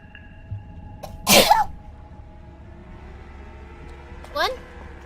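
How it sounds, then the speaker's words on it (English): A woman gives one loud, sharp sneeze close to the microphone over a quiet background hum, followed a few seconds later by a brief high vocal squeak. "But I feel like I have to sneeze."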